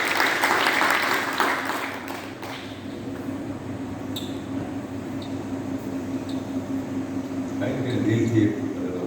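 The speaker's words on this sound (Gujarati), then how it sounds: "એમ તો બધાને આપણા વતી એકવાર તાળીઓથી વધાવીએ." An audience at a Sai devotees' welcome gathering claps, loud at first and then thinning to a steady patter under a low hum, with voices over it and a swell of clapping near the end.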